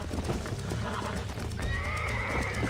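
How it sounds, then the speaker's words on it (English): A horse being tamed in the video game Red Dead Redemption whinnies loudly over thudding hoofbeats, a short, close burst of neighing and clip-clop set against background game noise. "ele tá domando o cavalo"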